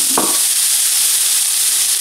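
Chopped shallot fries in olive oil in a non-stick pan, a loud, dense, steady sizzle close up, with a brief clatter at the start as the shallot goes in.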